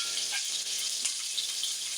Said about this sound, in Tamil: பெரிய வெங்காயம் வதக்கிக்கிறோம்